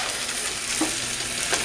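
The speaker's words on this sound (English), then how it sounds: "We got our scrapple frying." Scrapple frying in a pan, a steady close hiss of sizzling fat with a couple of faint utensil taps.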